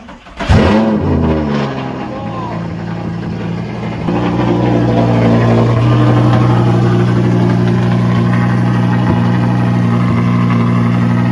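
A rebuilt Audi R8 starts with a sharp rising revving burst, then settles into a loud steady engine drone that grows stronger as the car drives off, heard close up with no voices.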